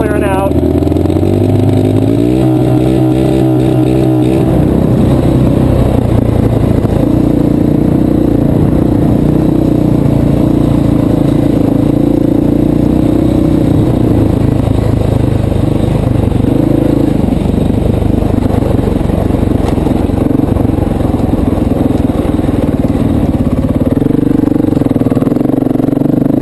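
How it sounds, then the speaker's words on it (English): A flooded motorcycle engine is held at full throttle to clear itself, producing a loud, sustained roar that runs nearly half a minute, with voices heard over it. "just hold it full throttle until it clears out. You hear it clearing out."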